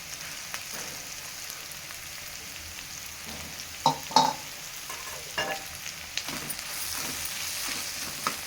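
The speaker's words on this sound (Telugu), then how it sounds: "ఇక ఎల్లిపాయ కారం అంతా మంచిగా కలుపుకోవాలి" A spoon stirs fried ivy gourd with garlic chili powder in a pan, giving a few scraping clicks over a steady background sizzle, with no talking.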